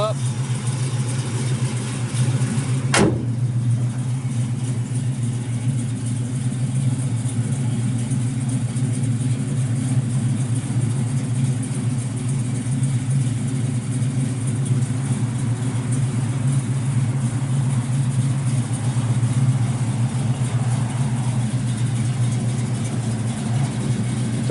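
A 1969 Chevrolet Camaro Z28 with a 454 big block, Flowmaster exhausts and a mild cam runs steadily at idle, a deep constant low rumble that continues throughout, with a single sharp click early on.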